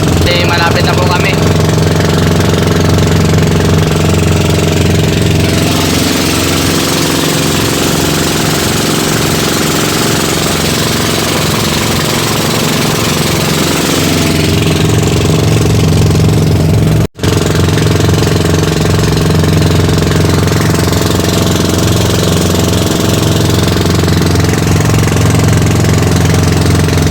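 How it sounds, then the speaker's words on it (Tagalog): A loud wooden boat's motor drones continuously up close, with a rough, knocking rumble that shifts slightly in pitch and a brief cutout partway through, in the Philippines. "Pero kaya naman dahil yung bangka nila Jerry Boy malaki."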